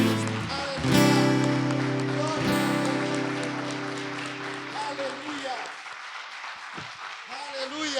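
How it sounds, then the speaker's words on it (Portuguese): Church congregation clapping steadily after a pastor's call to praise, loud at first and gradually thinning, with faint voices and organ-like tones underneath. "Aplauda o Senhor, querido."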